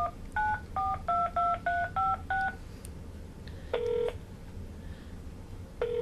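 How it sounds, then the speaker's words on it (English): A rapid string of telephone keypad tones, then a pause before two long ringing tones heard through a phone line. "We hear ringing."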